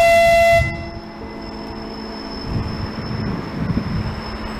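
Train at Prague main railway station, a loud horn-like tone opening the clip and then cutting off, followed by a steady low rumble of rail cars with a thin high whine held throughout.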